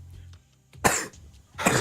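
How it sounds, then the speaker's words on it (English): Two harsh, close coughs separated by a short pause, loud bursts against a quiet background. "I'm actually coughing up a lung."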